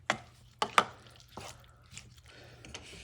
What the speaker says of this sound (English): I cut them diagonally because I want these seeds to cook.